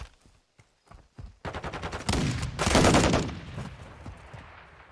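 Gunfire in a Call of Duty League match between Seattle Surge and Atlanta FaZe, scattered shots building into a sustained loud burst of rapid fire that fades out.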